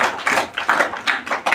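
Schoolchildren in a middle-school classroom clap together in a brief burst of quick, uneven claps close by, with no talk over them.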